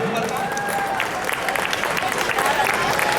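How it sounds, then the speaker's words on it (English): An audience at a Janmashtami costume contest in Houston applauds, a continuous wash of clapping with crowd murmur and some speech over it, fairly close and steady. "Big round of applause. The more you clap, the better they are."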